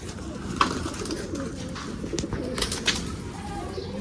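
Soft, low cooing of a Sirazi pigeon close by amid light rustling and background murmur, with a few faint chirps.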